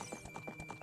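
Ganon's horse galloping in the Zelda Spaceworld '97 beta, a quick, even run of hoof clip-clops over a steady background tone with no talking.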